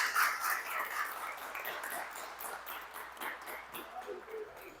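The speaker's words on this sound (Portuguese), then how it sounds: "As palmas ficaram fortes agora, irmãos" A church congregation claps together in a steady, dense patter of many hands that holds at moderate loudness and slowly tapers.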